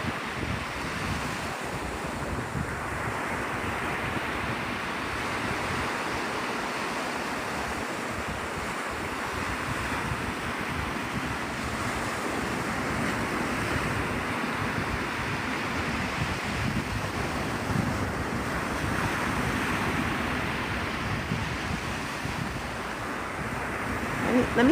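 Ocean waves roll and break steadily on Navarre Beach, Florida, at sunrise, a continuous surf roar mixed with wind buffeting the microphone, with no voices.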